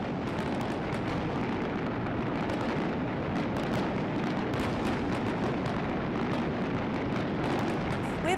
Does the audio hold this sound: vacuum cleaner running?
no